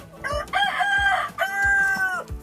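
A rooster crows loudly twice in quick succession, drawn-out calls up close, with hens clucking faintly in the background.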